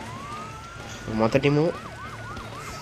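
Wailing emergency vehicle sirens from fire engine and ambulance units in the game Emergency HQ rise and fall in quick cycles, briefly covered by someone talking before the repeating wail returns alone.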